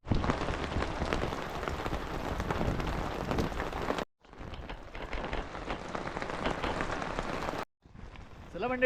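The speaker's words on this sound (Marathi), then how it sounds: "पावसाने बघा हजेरी लावली आहे जोरदार हजेरी लावली" Heavy monsoon rain in a Konkan village pours steadily in a dense, loud wash, briefly cut off twice, with faint talk near the end.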